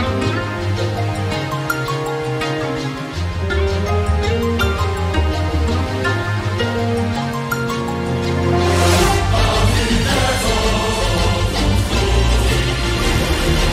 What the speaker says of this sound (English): I did like a quick orchestration that's a bit faster and sounds like this.